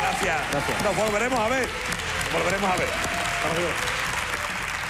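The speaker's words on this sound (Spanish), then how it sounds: "Fuerte aplauso" Studio audience applause on a TV show, loud and continuous, with a host's voice speaking over the clapping before it carries on alone.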